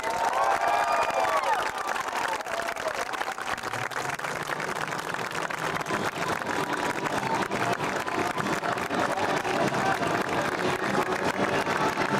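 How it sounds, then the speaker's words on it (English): A crowd applauds and cheers for a US Army infantry squad at a public event, sustained clapping mixed with shouts and whoops, voices calling out over a steady roar. "please join us in a round of applause for United States Army Infantry Squad"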